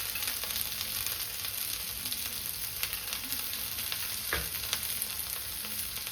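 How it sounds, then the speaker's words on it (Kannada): Okra frying in a spoonful of oil in a pan, a steady loud sizzle with scraping stir strokes throughout, one sharper clatter near the end, no voices. "ಸೊ ಇದು ಇವಾಗ ಕಂಪ್ಲೀಟ್ಲಿ ರೋಸ್ಟ್ ಆಗೋವರೆಗೂ ಚೆನ್ನಾಗಿ ಹೀಗೆ ತಿರುಗಿಸ್ತಾ ಇರಬೇಕು"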